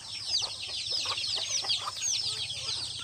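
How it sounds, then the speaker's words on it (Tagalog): Several chickens cluck and chatter busily together, a steady flurry of short calls close by with a low hum underneath. "Papakain ng manok."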